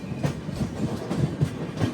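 Heard from aboard the Garib Rath Express running through the South Central Railway zone, wheels beat out a steady clickety-clack rhythm over rail joints beneath a low rumbling hum, moderately loud and without talk.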